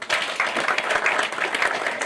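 Audience at a political rally breaks into applause, a dense, steady patter of many hands clapping at moderate distance for a couple of seconds.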